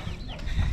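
Chickens cluck in short, scattered calls over a low rumble of background noise. No one speaks.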